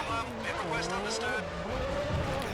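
An F1 race car in a racing video game skids against the wall on the Canadian GP circuit, with a wavering engine whine and a tire screech running through the short, loud burst.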